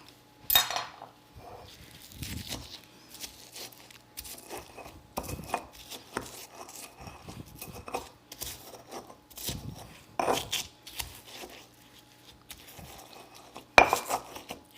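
Roasted onions and tomatoes being mashed in a bowl for guacamole, heard as sparse clinks, taps and scraping of a utensil against the dish with quiet gaps between, close and soft, no talking.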